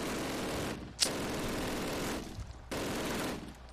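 Call of Duty tank cannon and machine-gun fire roars as dense sustained bursts, one sharp crack standing out near the start, with brief lulls between heavy volleys.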